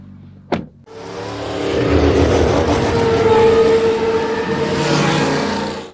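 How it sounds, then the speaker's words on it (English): A sharp click, then a new Audi S4's engine fires up and revs into a loud, rumbling exhaust roar that holds steady before dropping off abruptly. "Oh, this exhaust sounds amazing."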